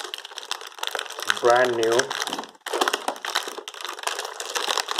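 Mirrors are pulled from thermocol packing with loud squeaky crunching and crinkling bursts, close by. A person speaks briefly partway through.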